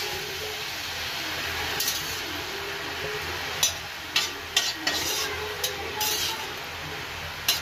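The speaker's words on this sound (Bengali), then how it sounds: "উপর নিচে করে নাড়াচাড়া করে নিলাম।" A spinach and eggplant curry sizzles steadily in a pan, with a few stirring scrapes and light clinks over the constant frying hiss.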